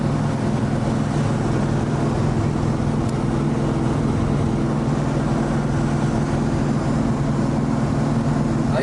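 A 1970 Plymouth Road Runner runs with Flowmaster mufflers, giving a steady, deep engine drone that holds evenly and loud throughout with no talk.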